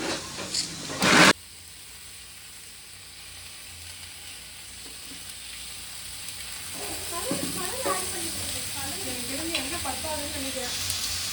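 Coloured cake batter is beaten continuously as colour is added bit by bit, making a steady whisking and mixing noise after a brief louder knock at the start, with faint voices in the background.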